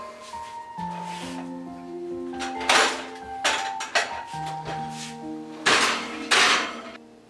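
A cupcake pan being slid back into a home oven, with several metallic clanks and clinks of the metal pan against the oven rack, set against a steady background of tonal sounds.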